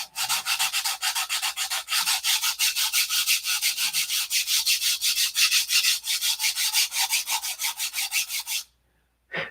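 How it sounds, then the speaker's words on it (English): Fiberglass cloth being sanded by hand, rapid rhythmic back-and-forth rasping strokes, loud and close, continuing steadily for several seconds before stopping abruptly. "Can you guys hear that fiberglass cloth?"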